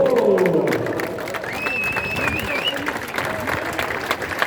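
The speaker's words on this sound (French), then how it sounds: "Avec vos applaudissements, s'il vous plaît." Crowd applause for GT3 class race winners at a 24 Heures du Mans open track day, a dense, continuous wash of clapping with a few whistles and a voice over it, fairly loud and outdoors.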